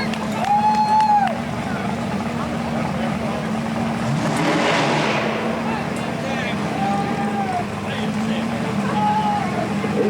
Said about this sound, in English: These guys are racing for all the kahunas, like Chris said.